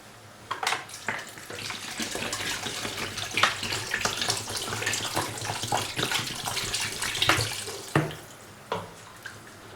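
Steady running water pours from a tap into a pot of about two kilos of fish for fish soup, a continuous splashing rush with a few clunks and a pause near the end.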